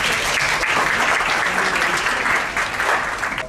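An audience bursts into loud, dense applause for students at a campus event, continuous close clapping from a large crowd that holds steady and eases slightly toward the end.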